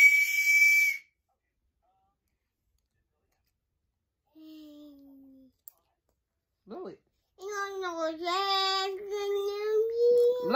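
A child blows a Chuck E. Cheese toy whistle, giving a short shrill toot at the start, then after a long quiet stretch a sustained wavering whistle-like squeal near the end, with brief small vocal sounds between.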